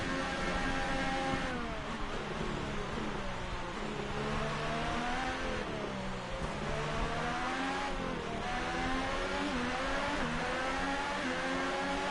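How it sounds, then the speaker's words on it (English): Formula 1 car engine from the F1 2018 racing game at the Mexican Grand Prix, a steady loud whine rising and falling through gear changes and acceleration, with no talk over it. "Formula 1 car race, Formula E races here too"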